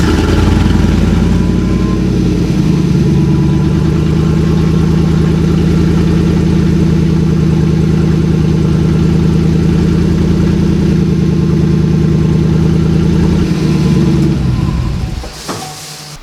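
A 2018 Chevrolet Silverado with the 5.3 V8 and no exhaust after the catalytic converters idles loud and deep with a steady, raspy rumble, then trails off near the end.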